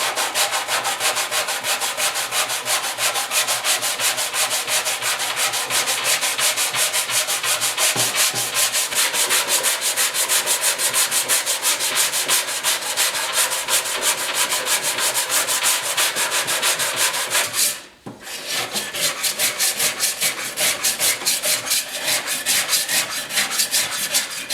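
Hand sanding of motorcycle bodywork on a 1974 Yamaha RS100 with 80 then 150 grit paper. Loud, close, rhythmic scraping strokes repeat steadily, with one brief pause near the end.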